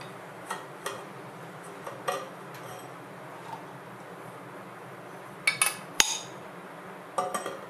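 A metal bearing from a Brunson optical boring alignment system is handled and flipped around, giving scattered light metallic clicks and clinks, then a short cluster of sharper knocks, all close in a quiet room without talking.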